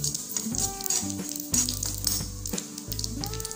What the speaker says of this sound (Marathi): या तुपामध्ये आता आपण एक चमचा खसखस टाकून घेऊयात आणि लालसर होईपर्यंत भाजून घेऊयात